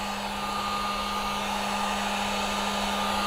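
Heat gun heating vinyl wrap onto BMW F30 interior trim, a loud steady blowing hiss with a constant hum, close and uninterrupted with no talking.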